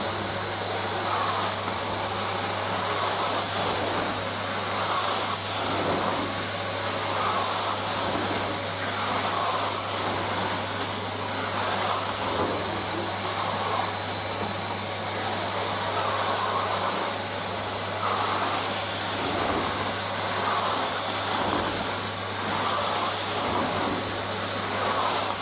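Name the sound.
carpet cleaner deep-cleaning bedroom carpet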